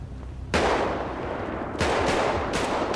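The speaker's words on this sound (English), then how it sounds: "That's too much shooting going on" Sustained bursts of gunfire from the video game GTA 5, starting abruptly and swelling again midway, dense and loud with no talk over it.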